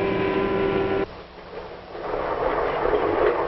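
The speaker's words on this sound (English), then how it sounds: "Now the train's hurrying through farm country." A passenger train moving through farm country, first a steady rumble with a tonal hum, then a sudden drop to a quieter rolling noise that swells back into a broad rushing roar.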